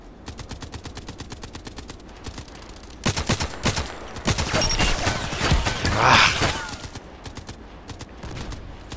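Gunfire in the online shooter Contract Wars, with dense runs of rapid shots that grow louder and more crowded toward the middle before easing off, and faint voice sounds underneath.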